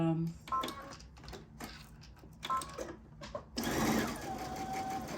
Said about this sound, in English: stitch it once and go back over it, just to make it a secure stitch.